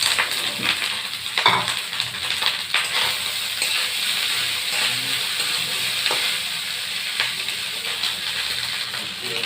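A spatula scrapes and stirs fried potatoes and rice in a hot pan, steady sizzling under repeated close scraping strokes with occasional metallic taps.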